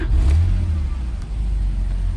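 A Porsche 911 Carrera 997.2 with a manual gearbox revving nearby, a deep, steady flat-six engine roar that rises briefly then holds at a loud, even level.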